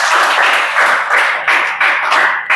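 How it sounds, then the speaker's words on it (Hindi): A class claps hands together on cue in quick, rhythmic bursts, about six waves of loud, close applause each fading briefly before the next begins. "ताली बजाओ जन्म से।"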